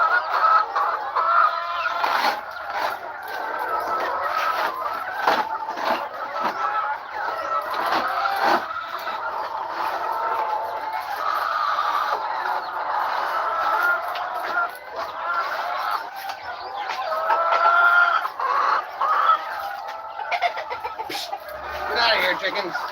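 Chickens cluck and squawk continuously on a farm, close and busy, with a dense layer of fowl calls throughout.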